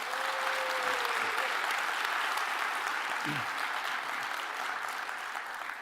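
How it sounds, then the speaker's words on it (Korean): Steady, broad applause fills a hall at a party's presidential primary debate in the Chungcheong region, a large audience clapping continuously at an even level, with a brief tonal sound and a faint low voice passing beneath it. "큰 박수로 토론을 시작하도록 하겠습니다"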